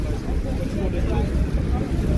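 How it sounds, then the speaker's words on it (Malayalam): Strong wind buffeting the microphone on a boat at Niagara Falls, a constant low roaring rumble throughout, with a voice speaking over it. "നല്ല കാറ്റാണ് കേട്ടോ"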